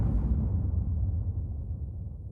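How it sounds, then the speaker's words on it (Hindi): A cartoon blast as cannons and a missile strike a tractor robot. A single deep, rumbling boom fades slowly over a couple of seconds, alone. "फिर उस पर तोपों से वार किया जाता है, मिसाइल से भी वार किया जाता है"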